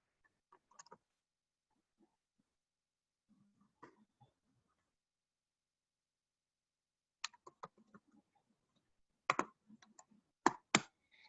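Sparse, quiet clicks of typing a query on a computer keyboard, a few scattered taps early on, then a denser run of sharper keystrokes toward the end.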